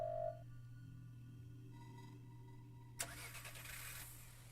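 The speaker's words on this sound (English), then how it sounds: "The sound of a car starting is coming from outside the door." A car engine starting outside a door in the horror game Firework: a faint tone, a quiet lull, then a sudden crank and the engine catching into a steady rumbling idle, heard at a distance under a constant low hum.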